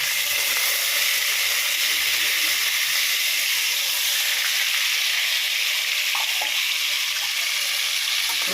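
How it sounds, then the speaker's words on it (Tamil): Ground onion paste sizzles in a hot pan for a Chettinad mutton gravy, a loud steady frying hiss that carries on evenly throughout with faint clicks. "இப்போ அது நல்லா அந்த பச்சை வாசம் போகிற வரைக்கும் அது வதங்கணும்"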